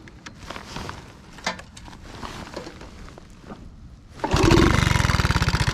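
Honda Cub C200 motorcycle: a few seconds of quiet handling noises, then the engine catches abruptly and settles into a loud, rapid, steady running pulse close by.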